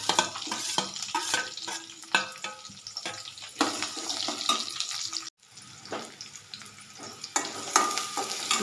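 Chopped onion frying in a pan, heard as a near sizzle with frequent clattering stirs and scrapes, a brief dropout midway, then more scraping and crackle.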